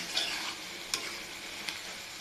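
Beef tripe curry sizzles quietly in a pan, with a steady hiss broken by a few sharp spatula scrapes as it is stirred.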